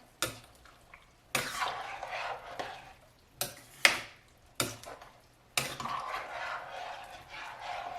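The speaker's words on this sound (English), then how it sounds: "Give it a good stir." A pot of beef broth vegetable soup being stirred, bursts of sloshing and scraping with a few spoon clinks against the pot, close, separated by short pauses, no talking.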